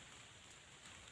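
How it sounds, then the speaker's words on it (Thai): Steady rain falling outdoors during a hunt for a giant honeybee hive, a uniform broadband hiss of drops with no talk, faint and brief. "เฮ้ยฝน"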